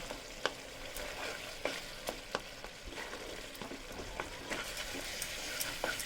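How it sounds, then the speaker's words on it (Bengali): Spice masala with tomato sautéed in oil on high flame, a continuous frying sizzle broken by repeated sharp ladle scrapes and taps against the pan, close and unaccompanied by speech. "এবার হাই ফ্লেমে দিয়ে মশলাটাকে কষিয়ে নেব।"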